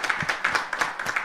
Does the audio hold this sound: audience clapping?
yes